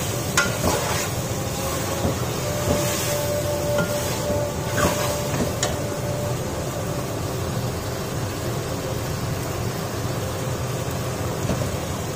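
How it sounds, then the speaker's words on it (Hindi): Ridge gourd (tori) fries in hot oil in a pan, giving a steady, dense sizzle and crackle with occasional stirring scrapes that continue evenly throughout, loud and close with no talking. "तोरियों की ऑयल में अच्छे से भुनाई करेंगे"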